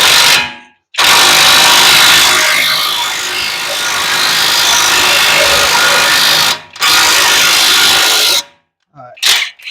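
Impact wrench buzzes loudly up close while working lug nuts on a 1996 Geo Tracker wheel, running in long sustained bursts separated by short pauses.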